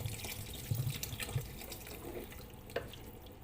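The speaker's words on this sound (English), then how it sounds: "So I'm putting 1 liter of water" A liter of water poured into a pot of sambar, a soft steady splashing stream at close range with small irregular bursts and drips over a quiet kitchen background.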